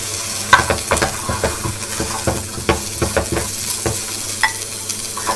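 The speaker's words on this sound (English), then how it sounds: "So dropping in the vegetables." Mixed vegetables sauté in a hot pan, giving a bright sizzle broken by repeated clanks and scrapes of stirring, close and fairly loud, with no voices.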